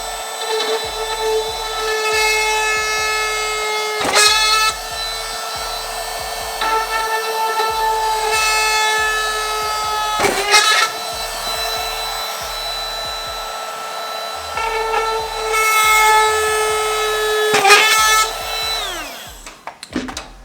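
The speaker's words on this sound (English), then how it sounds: "I'm gonna drill those spots out and then we can mount the duct up" A power drill whines loudly up close, drilling holes in a C5 Corvette front bumper, its motor spinning up and down in repeated bursts with sharp jolts as it bites through material.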